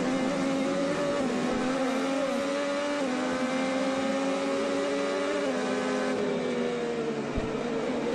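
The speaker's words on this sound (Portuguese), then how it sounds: "Vamos ouvir o motor dele na freada? Repara como ele tira o pé antes do acelerador e depois ele freia." IndyCar engine on the Toronto street circuit, a steady high-pitched onboard drone that eases off as the driver lifts from the throttle before braking, continuous and moderately loud throughout.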